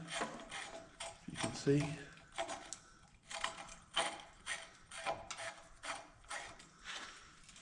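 Close ratcheting and mechanical clicking as a top nut is undone by hand on a Fox Podium mountain bike fork during a rebuild, coming in short irregular bursts with a person talking over it.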